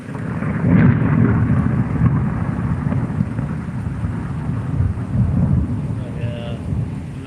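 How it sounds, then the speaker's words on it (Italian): Thunder rolls through a night storm, a close, heavy, low rumble that surges near the start and again later over steady rain and some wind buffeting. "i tuoni pure."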